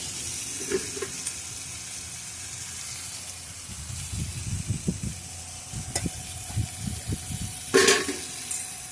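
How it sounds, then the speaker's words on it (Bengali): Pumpkin greens cooking in a pan sizzle and hiss steadily as water goes in, with bursts of bubbling, stirring scrapes and a sharp spatter near the end, heard up close with no talking. "জল দিয়ে দেবো এখন।"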